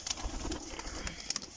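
Domestic pigeon cooing softly nearby, a few low murmuring coos over faint background noise, quiet and brief with no talking.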